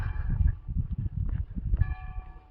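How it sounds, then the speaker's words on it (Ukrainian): Church bells of a church near the Szczecin Lagoon ring at a distance, their tones drifting over a low rumble of wind or traffic, with a brighter peal near the end. "А в костелі чути, як дзвони дзвонять."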